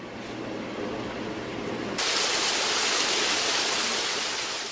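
An artificial indoor waterfall in a hospital makes a continuous rushing, hissing flow of water that is close and even, growing brighter and louder partway through.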